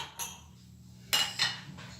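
A utensil scrapes and clinks against a bowl of oat cake batter in a few separate strokes, close and fairly quiet, with short pauses between them.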